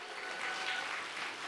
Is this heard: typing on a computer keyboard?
no